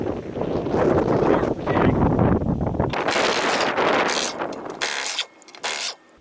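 An impact wrench with a 19 mm socket, set to reverse, working on the axle of a 1998 Honda Civic during a CV half shaft replacement. Low mechanical whirring and wind noise come first, then several sharp, close rattling bursts in quick succession.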